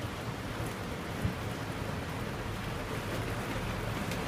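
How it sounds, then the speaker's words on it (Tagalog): Heavy rain pours down during a cable car ride over Sentosa Island, Singapore, as a steady, dense hiss of fairly faint rainfall with one small knock partway through. "It's raining hard."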